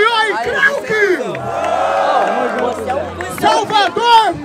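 A loud crowd roars and shouts at a Brazilian street rap battle while an MC yells over it with a sustained, rising shout in the middle.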